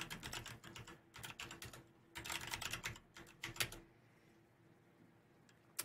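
Password being typed on a computer keyboard during a Splunk Enterprise install: quiet, rapid clusters of key clicks in uneven bursts, close but faint, trailing off to near silence at the end.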